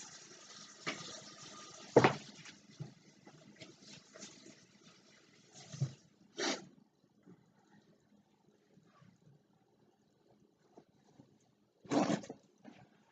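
Hands are washed under a running kitchen tap, soft water flow with a few louder splashing bursts spaced apart amid quiet stretches.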